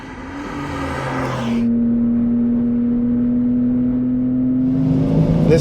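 A BMW M3 CS (G80) accelerating hard, its engine note rising as a loud, steady drone that holds strong after a gear change and keeps pulling at high speed.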